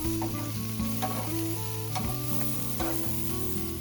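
Bratwursts sizzle loudly on a grill in a steady crackling hiss, with several scraping knocks as they are turned, close and without voices.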